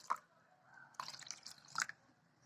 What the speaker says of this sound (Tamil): இது இந்த ரவை மூழ்கிற அளவுக்கு நல்லா தண்ணி ஊற்றி ஊற வச்சிடலாம்